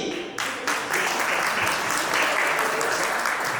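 An audience at a charity concert-show bursts into dense, loud applause that starts abruptly and keeps going, with a faint voice underneath.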